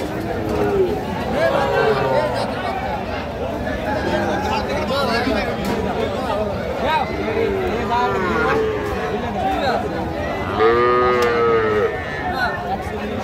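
Young heifer calves and small bulls moo repeatedly at a busy Dhaka cattle market, their drawn-out calls rising above steady crowd chatter and nearby talk.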